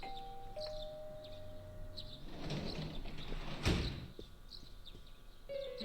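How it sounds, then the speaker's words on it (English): A doorbell chimes in the video game Persona 4 Golden, a soft ding-dong over a gentle electronic background track with a swelling whoosh in the middle. "You hear the doorbell ringing. Someone seems to be at the door."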